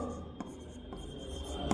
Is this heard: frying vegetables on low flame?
no